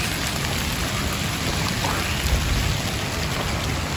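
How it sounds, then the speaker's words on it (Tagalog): Steady, dense rain pours down in an abandoned cemetery, a constant hiss of drops striking the ground and surfaces with no pauses and no voices. "Kahit umuulan guys."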